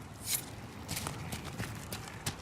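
Horse hooves clip-clop at a walk in Dragon Age: Inquisition, a few soft irregular footfalls at moderate distance over a steady game ambience.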